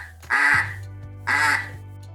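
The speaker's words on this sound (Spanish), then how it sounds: "Este es el sonido que hace un pato." Duck quacking twice, two clear loud quacks about a second apart against a quiet background hum.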